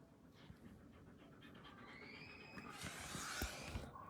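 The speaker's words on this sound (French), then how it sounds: "j'ai mon chien qui me lèche les orteils" A pet dog pants close by while licking its owner's toes, making soft, rhythmic breathy huffs and wet sounds that build into a brief denser rustle near the end.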